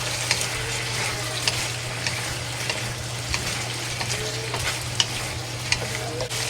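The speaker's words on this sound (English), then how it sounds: "And fry well, and we add the cinnamon stick, 2 star anise, and 2 bay leaves, and 1 dry chili pepper into it" Chicken pieces frying in a pan with a cinnamon stick, star anise, bay leaves and a dry chili, giving a continuous close sizzle broken by scattered scraping stirs and light clicks of the utensil.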